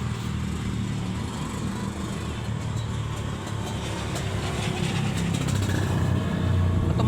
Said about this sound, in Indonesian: ada motor borong lewat